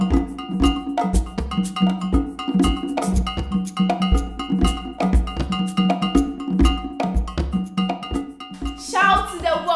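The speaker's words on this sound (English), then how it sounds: "Listen, listen to the voice of the African drum." African drums beat in a fast, dense rhythm, with sharp, bright struck hits like a bell or cowbell riding on top of deeper thumps. The playing is loud, close and continuous, with no voices.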